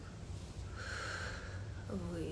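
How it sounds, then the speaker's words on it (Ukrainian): Breathing during a neck and collar-zone self-massage exercise: a single drawn-out breath rises in the middle over a steady low background hum, close and soft. "Вдих. Видих. Вдих"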